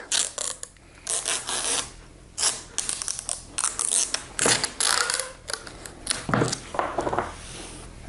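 A hand saw cuts through stacked wooden blocks in a gang-cutting setup, giving close rhythmic rasping strokes in steady bursts with brief gaps between them.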